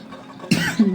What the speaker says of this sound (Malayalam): ചുമ വരും അതുകൊണ്ട് ഞാൻ നിർത്തുന്നു